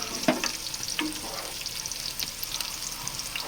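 Soaked rice poured into a biryani pot for chicken dum biryani, heard as a soft, steady sizzle and stirring hiss with a few brief scrapes and taps close by, no talk.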